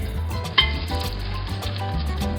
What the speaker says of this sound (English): So now we're frying it